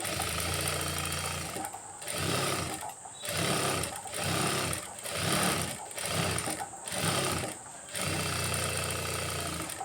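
A sewing machine stitches a lined blouse in rhythmic bursts of whirring, close and loud, with short pauses between runs.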